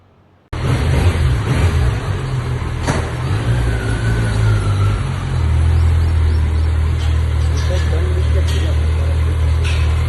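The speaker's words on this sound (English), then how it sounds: "Time for some cold start." A Kawasaki Ninja 1100SX motorcycle fires up from cold with a sharp catch, then settles into a loud, close, steady idle with a low throbbing rumble that carries on to the end.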